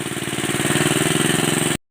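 A running engine powering an irrigation water pump in a rice field chugs steadily with a fast, even pulse at close range, then cuts off abruptly near the end.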